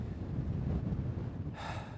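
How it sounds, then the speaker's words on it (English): Low, rumbling buffeting of wind across a microphone on the Scottish coastline at St Abbs, gusting unevenly and close, with a brief airy rush near the end. "I'm trying to keep the microphone as close to me because it's still a bit windy"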